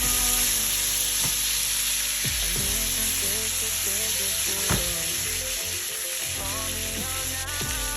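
Unsalted butter sizzling and frying steadily in a hot pan beside a pan-seared striploin steak, a continuous close crackle with a few sharp clinks of a utensil against the pan.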